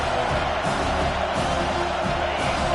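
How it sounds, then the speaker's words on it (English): Football stadium crowd at a college game roaring steadily behind the defense on third down, a dense, sustained wall of cheering with no clear peaks. "Decibels rising as the crowd gets behind this defense on 3rd down"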